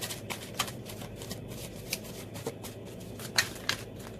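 Oracle cards being shuffled by hand: a soft, continuous papery riffle with light flicks and a few sharper snaps, close and quiet, with no talking.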